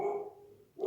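A dog gives a single short bark, close and fairly loud, then a second bark starts just as the sound cuts off, with quiet in between.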